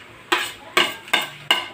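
Soy sauce and chili being stirred in a pan: four distinct scraping strokes at a steady rhythm over a quiet background, close and moderately loud, with no voices.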